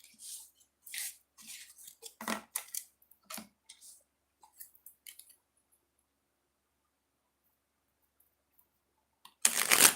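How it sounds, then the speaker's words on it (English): Tarot card decks being shuffled up close in a quiet room, several short papery riffles and flicks in bursts over the first half, then silence before a louder rustle at the end. "then I'll shuffle it, okay? 2 shuffles."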